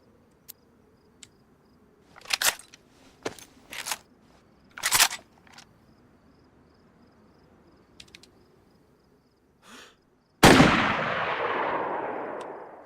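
Gunfire in the survival game DayZ, a few sharp separated shots spread over several seconds, followed by one loud blast whose noisy tail lingers to the end; no talking.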